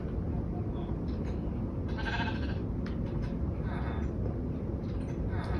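A sheep in Minecraft bleats a few times over a steady, loud rumbling background, with faint voices mixed in.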